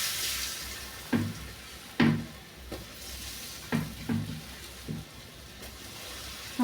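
Whole spices (cloves, cardamom, cinnamon) and chopped ginger frying in a pan, with a soft steady sizzle broken by several spoon stirs and scrapes against the pan.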